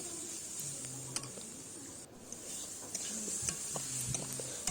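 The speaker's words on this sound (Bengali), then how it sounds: "আবারও নাড়াচাড়া করছি, এইভাবে ভেজে নেব" Radish greens being dry-fried and stirred in a pan, a quiet, steady hiss with intermittent soft scraping and tapping of a spatula, no voices.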